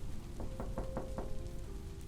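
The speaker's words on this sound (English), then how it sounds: "I heard someone tapping on the door again." Someone taps on a door with about five quick, evenly spaced knocks, fairly faint and close, followed by quiet.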